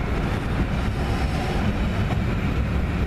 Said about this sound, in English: Now I'm on a train